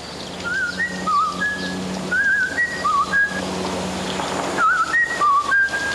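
A man whistles a birdlike tune imitating a sparrow's song. It comes in three short phrases of quick trilling notes with pauses between, clear and close in a quiet room.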